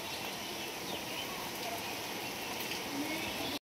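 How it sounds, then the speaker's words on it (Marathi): Steady rain pouring outside on a farm in the morning, a dense, even hiss of drops on surfaces held at one level throughout, with no voices, ending abruptly. "पाऊस चांगला यायला लागलाय सकाळ"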